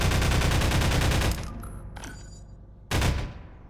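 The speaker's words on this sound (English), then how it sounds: "Pulse rifle." A pulse rifle fires in Garry's Mod as a fast, loud stream of zapping shots, breaking off, followed by a faint echoing tail and one more short burst near the end.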